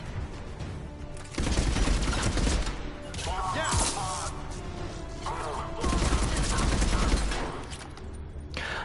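Rapid gunfire from a weapon in Mass Effect 3 (Legendary Edition), loud sustained bursts separated by brief lulls with scattered impacts and effects in between.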